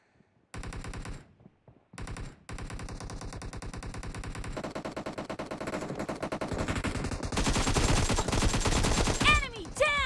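Sustained automatic gunfire from a PUBG Mobile Demolition mode match, rapid bursts of shots rattling almost continuously and growing louder and denser toward the end, with voiced callouts mixed in.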